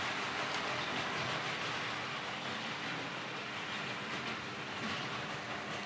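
A plastic Tri-ang Hornby Brush Type 2 model diesel locomotive, R.357B in experimental blue livery, rattling along a model layout, a faint, continuous rattling rumble of wheels and plastic sidewalls with no talking.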